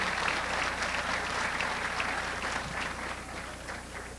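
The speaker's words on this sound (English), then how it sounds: "Let's give them all a round of applause" Steady audience applause fills the room for pageant contestants who have just finished their interviews at the Miss West Virginia USA 2000 pageant, dense clapping holding at an even level throughout before tapering slightly near the end.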